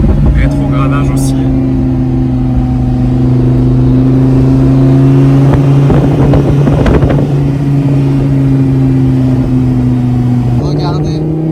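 Lamborghini Huracan LP 610 engine droning loud and steady with a strong low growl, shifting pitch near the end as it downshifts and pulls, with someone talking over it throughout.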